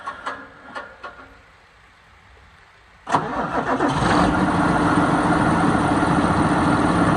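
An old farm vehicle's engine cranks and catches loudly at about three seconds after quieter knocks, then settles into a steady, full running roar for the remainder.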